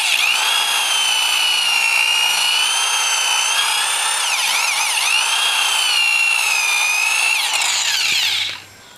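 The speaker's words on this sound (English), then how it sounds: "after some time buffing with the polishing compound" A power buffer runs steadily, polishing scratches out of a vehicle's car paint with compound. It gives a loud, continuous whine with slight pitch wavers and cuts off near the end.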